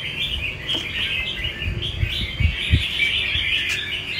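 A wild-caught songbird chirps in a rapid, continuous stream of bright tweets, close and clear, with a few soft low thumps underneath.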